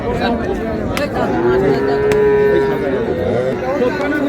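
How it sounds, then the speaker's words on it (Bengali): A bull calf at a Raniganj cattle market gives one long, loud moo in the middle of the clip. A constant murmur of the market crowd runs underneath. "এই যে ষাঁড় বাচ্চা ষাঁড় বাচ্চা"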